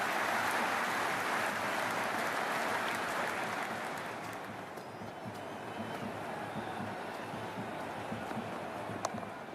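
A dense, roaring crowd at an IPL cricket stadium during a Mumbai Indians versus Kolkata Knight Riders match keeps up a steady wash of cheering throughout, easing slightly partway but never dropping away.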